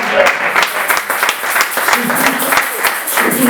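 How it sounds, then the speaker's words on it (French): A seminar audience bursts into steady, dense applause of many hands clapping together, loud and close, with a voice speaking over part of it. "Acclamez pour vous-même."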